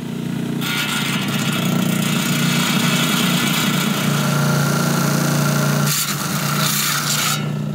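A rock saw cuts through a large Kentucky geode, producing a loud, continuous grinding rasp over a steady motor drone that holds strong throughout, briefly easing near the end before resuming.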